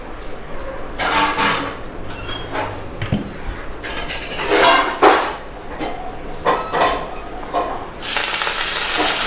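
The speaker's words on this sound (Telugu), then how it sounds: "ఇప్పుడు కొంచెం మళ్ళీ నూనె వేస్తున్నాం తోటకూర యాగడానికి అన్నమాట" Amaranth leaves (thota kura) cooking in oil in a pan for a raw mango chutney, with a steady sizzle broken by frequent loud clanks and scrapes of a utensil against the pan.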